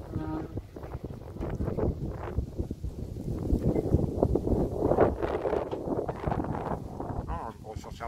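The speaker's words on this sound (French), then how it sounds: "Il doit y avoir du vent" Wind blowing across an open marsh around a wooden pontoon, a steady rushing bluster that fills the whole clip, with people talking over it.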